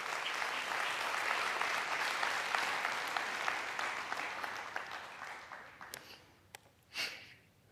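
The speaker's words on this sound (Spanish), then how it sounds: "si va a aplaudirle, hágalo para Él y hágalo con fuerza" Church congregation applauding, a dense, loud burst of clapping sustained for several seconds before thinning out, with a few scattered claps and a breathy sound near the end.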